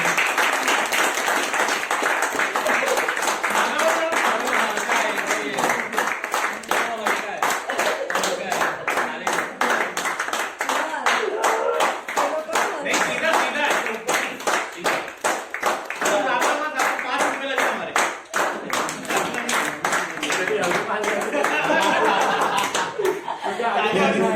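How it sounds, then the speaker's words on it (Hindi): Audience applause and rhythmic clapping at a live event in India, loud and sustained throughout, with scattered chuckles and voices mixed into the dense crowd sound. "तालियां एक बार जोरदार उनके लिए।"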